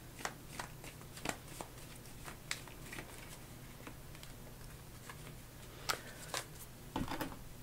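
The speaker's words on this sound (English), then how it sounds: "I like to shuffle on camera." Tarot cards are shuffled by hand in a steady run of soft riffling and light ticking taps, close but quiet, with no talk.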